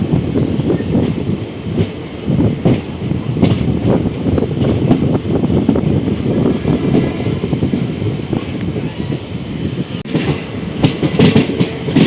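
A train pulls in at platform 3 of Pakala Junction, its steady rumble and rhythmic wheel clatter filling the air up close and continuing without pause.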